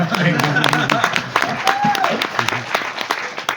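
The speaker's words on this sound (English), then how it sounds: "I'm going to applaud that" Audience applause at a conversation event with a filmmaker at a Netflix Frankenstein exhibit: steady clapping from a crowd, mixed with voices talking underneath.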